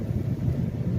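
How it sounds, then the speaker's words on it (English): Wind blowing snow in a storm roars as a heavy low rumble of gusts buffeting the microphone, loud and close, with no voices. "Look how hard the snow's blowing."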